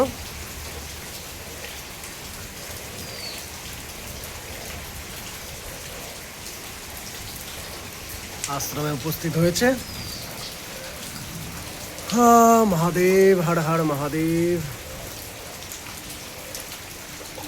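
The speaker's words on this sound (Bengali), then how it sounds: "বৃষ্টি সারা দিন রাত হয়েই চলেছে" Steady rain hisses evenly throughout, and a voice chants partway through, rising above the downpour before it fades back to rain alone.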